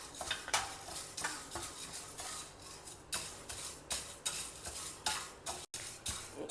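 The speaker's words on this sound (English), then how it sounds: "We will dry roast the dals one by one." Dals are dry-roasted in a heavy pan over low flame, a spoon scraping and stirring in repeated brisk strokes with a soft rustle of lentils, close and fairly quiet.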